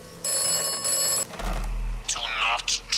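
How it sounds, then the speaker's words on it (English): Telephone ringing in the video game Atomfall, a bright electronic bell tone repeating in two bursts, followed by talking over game sounds. "Another phone call."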